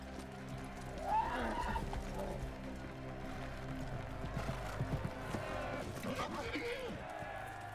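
A horse whinnies twice, once early and once near the end, over a steady bed of music and voices from Game of Thrones.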